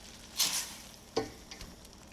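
Ground beef browning in a pan while seasoning goes in, giving two brief bursts of sizzling and stirring over a low, steady background hiss.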